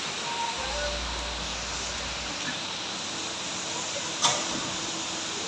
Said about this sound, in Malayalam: നല്ല മഴയാണ്. രാവിലെ തൊട്ട് ഇങ്ങനെ നിൽക്കുന്നതാണ്